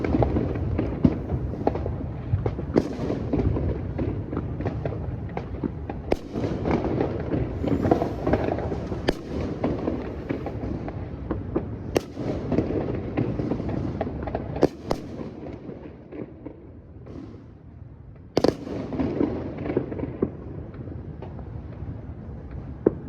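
Fireworks going off nearby and loud, with repeated booming bursts and crackling over a continuous rumbling wash that lasts throughout, with scattered sharp bangs standing out.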